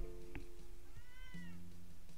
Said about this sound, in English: And cat rolls over and meows at me